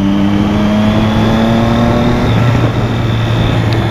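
A motorcycle engine drones steadily at high revs while riding through a curve, with a sustained tonal hum that shifts pitch slightly midway, loud and close throughout.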